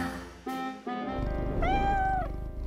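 A cartoon cat meows in a few close, clear, drawn-out calls, the last one the longest and most tonal, with no talking.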